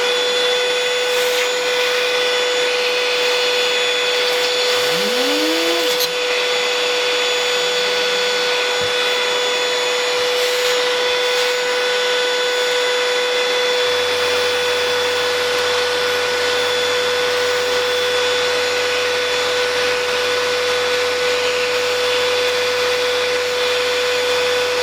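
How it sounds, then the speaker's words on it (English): A vacuum cleaner drones loud and steady at close range while sucking dust out of a CPU fan, with a high whine throughout and brief shifts in tone as the nozzle moves. "I'm gonna turn it on. I'm gonna try to just suck it all out first."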